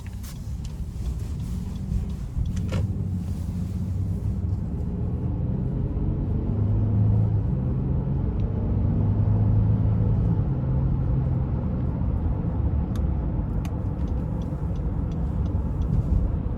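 2017 Honda Ridgeline RTL pickup with 118,000 miles on a test drive, a steady low engine and road rumble heard from inside the cab, continuous and moderately loud with a faint rising tone.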